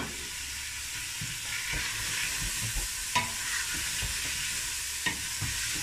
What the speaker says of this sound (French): Et on va remuer tout ça